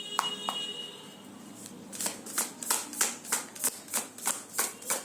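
Tarot cards are riffled and shuffled by hand: a few light taps, then a run of about ten evenly spaced, crisp shuffling bursts, close up with no talking.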